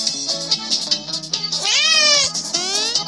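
A cat meows repeatedly in a lively indoor game setting, with several short calls followed by a longer, drawn-out rising and falling meow near the end, loud and close.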